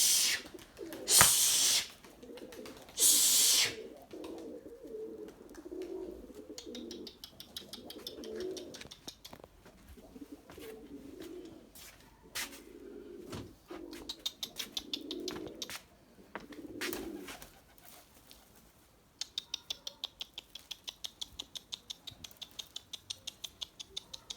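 Pigeons coo in low, throaty repeated phrases close by in a loft, with a sharp bursts of noise at the start and steady rapid clicking and pattering toward the end.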